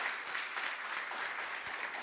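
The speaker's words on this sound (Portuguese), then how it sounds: "Você pode aplaudir o Senhor?" Congregation at a Christian worship service applauding, a steady wash of clapping from many hands throughout, moderately distant and fairly quiet with no clear voices.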